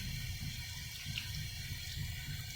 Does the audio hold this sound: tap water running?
yes